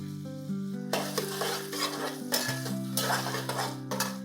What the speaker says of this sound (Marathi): ओवा टाकून झालं की लगेचच यामध्ये कांदा टाकून घ्यायचा.